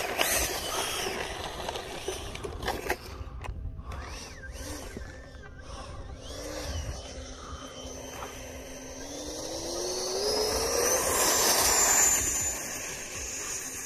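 An E-flite F-16 Thunderbirds 70mm electric ducted-fan model jet takes off in wind, a broad whooshing roar building to a loud peak near the end, with a rising whine sweeping upward.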